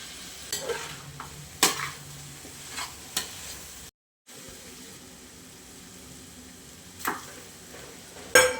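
Chicken roast being stirred in a pan after a spoonful of soy sauce, with soft scraping strokes over a faint steady sizzle and a few sharper spoon knocks, no talking.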